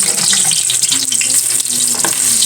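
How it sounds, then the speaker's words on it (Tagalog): Ginger sautéing in a pan for a crab and vegetable soup, a steady close sizzle and crackle of frying running throughout with faint clinks, no talking. "Kailangan kong igisa sa luya muna"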